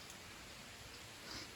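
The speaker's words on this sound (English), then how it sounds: "It's raining pretty good." Rain falls steadily on a freshly cut hay field, a faint even hiss of drops with no talking.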